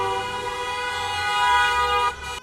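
Car horns blare in a sustained, loud chorus of overlapping tones at a restaurant owners' protest in Alicante, holding steady before cutting off abruptly near the end.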